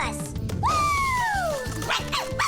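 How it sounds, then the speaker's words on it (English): A cartoon dog gives a drawn-out whining yelp that slides downward, followed by a few quick yips, up close over a busy animated soundtrack, with voices around it. "I don't know what she's barking about"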